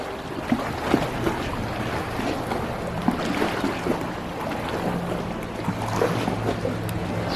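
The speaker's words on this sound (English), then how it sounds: "The sound of like the water just crashing up against the rocks." Water splashing and washing against rocks at a themed zoo water feature, a steady rushing wash with scattered louder splashes throughout, fairly close with no talk.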